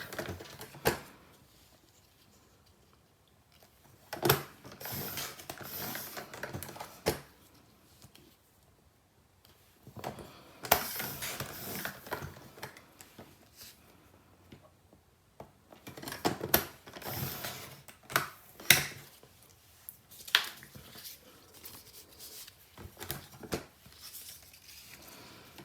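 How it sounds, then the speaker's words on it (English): Paper strips being cut to length for a sunflower craft project: a series of short crisp snips and rustles in irregular bursts, close and clear, with quiet pauses between and no talking. "So just keep bringing them together and we'll cut them down to length."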